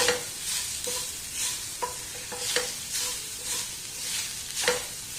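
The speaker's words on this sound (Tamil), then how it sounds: "இப்போ தேங்காய் வந்து லேசாக வறுத்துக்கோங்க நல்லா செவக்கணும் இல்லை லைட்டாக அந்த நெய்யில் வறுத்து எடுத்துக்கலாம்" Grated coconut being lightly roasted in ghee for traditional suzhiyam, with soft sizzling and repeated scraping strokes of a spoon stirring the pan, close and alone without speech.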